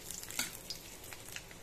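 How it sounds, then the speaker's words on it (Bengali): Cumin seeds and two bay leaves crackle briefly in hot oil. The soft sizzle comes with a couple of light stirring clicks. "তেলটা গরম হয়ে গেছে, আমি ফোড়নে দিয়ে দিলাম সাদা জিরে, দুটো তেজপাতা"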